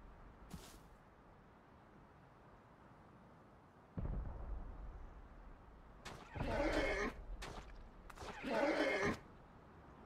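Horses neighing in the video game Rust: two loud, close whinnies arrive in quick succession near the end, following a quieter stretch of low background rumble.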